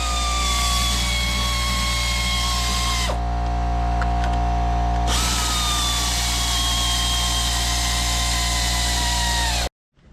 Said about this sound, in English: We gotta tighten some bolts.